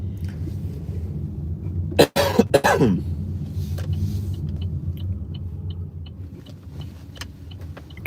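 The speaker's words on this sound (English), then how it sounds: "I got a little bit of a dry cough today" A short burst of dry coughing stands out over a steady low engine rumble inside a moving car, then the drone continues.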